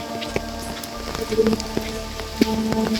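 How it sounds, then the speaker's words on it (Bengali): Rain patters steadily on surfaces nearby, mixed with faint tonal background hum and a few soft knocks. "বৃষ্টি হইতে আছে"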